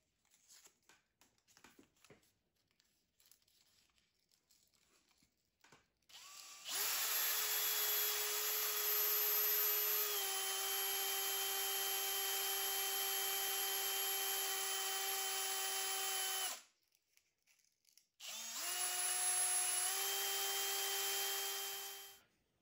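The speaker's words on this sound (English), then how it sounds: "this is the very last one, and I just finished polishing it on my drill" A drill spins while polishing a bone bridge pin for an acoustic guitar, a steady high whine with a faint rubbing tone, running in two long bursts separated by a short pause, with quiet handling noises before it starts.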